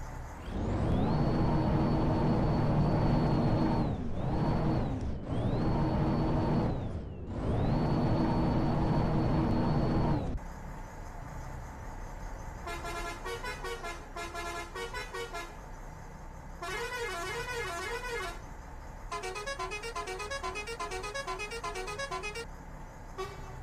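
Bus Simulator Indonesia gameplay with a modded bus: long loud horn blasts sound in repeated bursts at first, then give way to a quieter engine drone punctuated by rapid musical horn tones.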